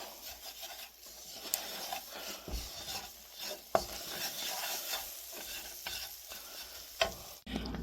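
Spoon stirring a roux of melted butter and flour in a hot pan, with steady scraping and rubbing strokes over a soft sizzle, close and moderately quiet, no talking.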